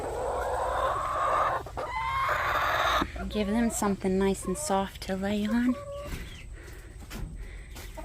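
Chickens cluck and chatter close by while a person talks over them, with rustling in the background.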